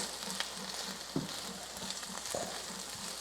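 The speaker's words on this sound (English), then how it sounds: "You see it's sort of boiling now, right? Because we're holding the water in." Eggplant pieces with garlic and cumin cook in a covered pan, giving a steady close sizzle and bubbling from water trapped under the lid, with a few faint clinks and stirring taps.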